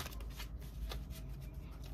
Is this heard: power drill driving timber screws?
no